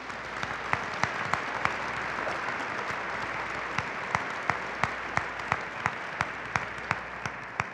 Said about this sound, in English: I ask you to join me in one more round of applause for our great Army families here today.